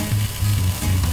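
A steak sizzles on a hot grill just after being flipped, a steady close hiss with no talking.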